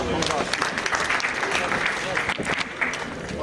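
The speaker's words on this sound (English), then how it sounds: "A round of applause, please." Audience applause at a formal assembly ceremony, a dense steady wash of clapping filling the whole stretch without letting up, with a few sharper individual claps standing out.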